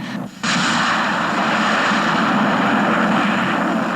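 A sudden loud roar cuts in after a brief dip and holds steady, a dense engine-like rush from an aircraft crash in a realistic flight simulator.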